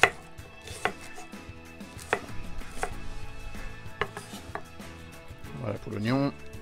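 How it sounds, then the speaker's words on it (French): A knife chops onion into small cubes on a board for a split pea soup, a series of sharp individual chops spaced irregularly, ending in a quick rapid burst, close and clear over a faint background hum. "On va venir couper donc en style mirepoix, donc en cubes."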